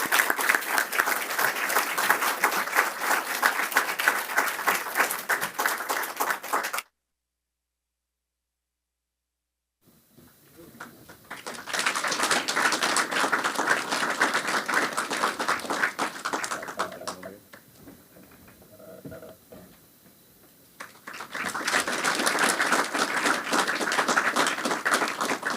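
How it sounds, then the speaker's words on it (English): Audience applause at a book prize ceremony, several bursts of dense steady clapping separated by a silent gap and a quieter lull, fairly close and loud. "please give them a hearty round of applause as they do so"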